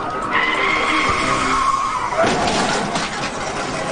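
A car with a blown tire skids and squeals during a police chase in Santa Ana, California, a loud sustained screech with rising tonal whine, then rougher scraping road noise.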